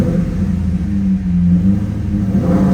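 A 2002 Chevrolet Corvette Z06 engine burbles through a Borla exhaust at low revs around 2,000 RPM, a deep steady rumble with a slight swell, loud and close, with no talk.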